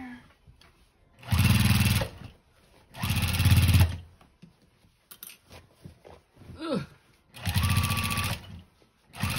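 A sewing machine stitches a denim quilt in several loud bursts of a few seconds each, separated by pauses with quieter handling noise and a brief voice.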